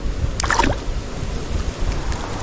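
A rising river rushes with a steady, broad wash of flowing water, continuous and fairly close, with a brief high voice-like call near the start.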